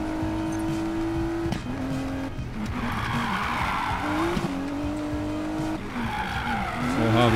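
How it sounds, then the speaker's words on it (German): Tires squeal and skid on a car in Need for Speed Payback, long sustained screeches rising and falling over a revving engine, loud and continuous with short breaks between slides. "Oha, wie die Reifen schrubbern."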